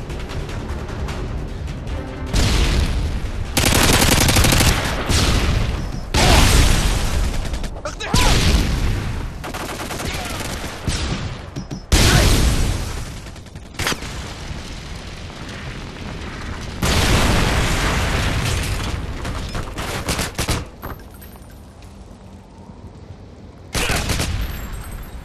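Loud gunfire bursts and booming grenade explosions in a hardcore search-and-destroy match of a first-person shooter video game, set on an Afghan map, coming in repeated heavy volleys separated by short gaps.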